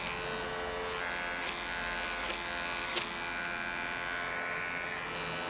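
Electric hair clippers cut a low taper behind the ear, using a clipper-over-comb technique. They make a close, constant buzz, with three short, sharper bursts where the blades bite into hair.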